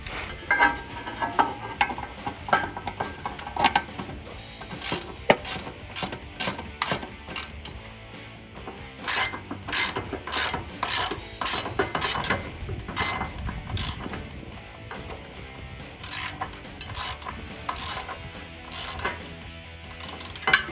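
Half-inch deep-well socket on a ratchet cranking down a running board bracket under a 2019-2022 Chevrolet Silverado 1500, giving a long run of quick metallic clicks in bursts, close and fairly loud with no talk.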